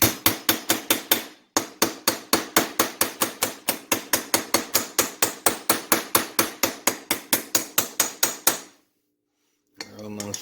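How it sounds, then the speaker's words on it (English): A small hammer taps on a motorized bicycle engine, about forty sharp metallic strikes in a fast, even rhythm with one short pause, close and loud, then silence and a brief voice at the end. "I like to use just a small hammer"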